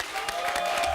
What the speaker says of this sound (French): Des applaudissements pour les Gochanga.